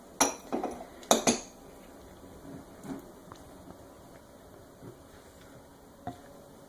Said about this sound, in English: And we're just going to stir that together.